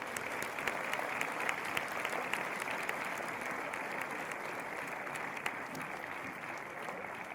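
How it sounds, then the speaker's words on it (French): Spectators applauding archers at a bow-shooting final of the Roi de l'Oiseau festival, steady continuous clapping from a crowd at moderate distance, even in level from start to finish. "En attendant, on peut les applaudir quand même."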